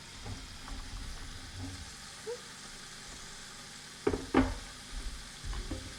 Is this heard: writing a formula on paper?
no